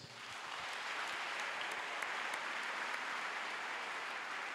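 A church congregation applauds in a steady, continuous round of clapping that holds evenly and fairly faint throughout.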